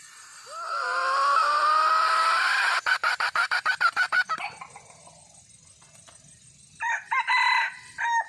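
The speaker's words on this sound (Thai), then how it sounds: "มาฟังดูว่ามันจะขันไหมนะครับ" An F1 crossbred rooster crows once in a long, loud call close by, followed by a quick series of clucks and a shorter second squawking burst.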